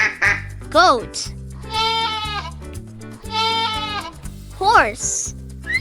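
A goat bleats in two long, wavering cries over bouncy background music, with short sung or spoken voice bits around them.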